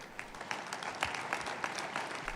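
A church congregation at a TB Joshua service claps in a faint, quick patter of scattered hand claps that lasts about two seconds and stays distant and soft throughout.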